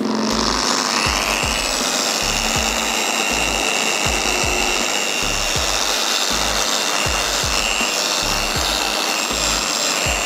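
Machine polisher with a pad working over a car hood, a steady loud whirring hum with repeated rhythmic rubbing pulses running throughout, no talking.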